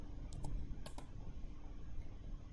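A few soft, quick keystrokes on a computer keyboard while drafting in AutoCAD, faint clicks in two short clusters over quiet room noise.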